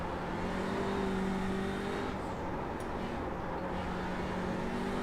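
Audi RS3 LMS TCR race car engine in iRacing at Suzuka, a steady loud engine drone with tonal hum running throughout, no talk over it.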